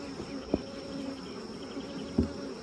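Honeybees buzz in a steady, droning hum during a beehive inspection, with a couple of brief thumps from handling, close but fairly quiet, with no talking.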